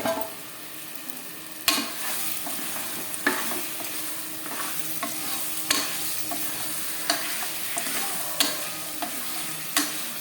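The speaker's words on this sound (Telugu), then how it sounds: "ఇప్పుడు దీనిలో ఉప్పు కారం పట్టించి పెట్టుకున్న మటన్ అయితే వేసి కొద్దిసేపు బాగా ఫ్రై చేసుకోవాలి" Mutton coated in salt and chili powder frying in hot oil with ginger-garlic paste, a steady close sizzle broken by repeated spoon stirs and scrapes against the pan, with no voices.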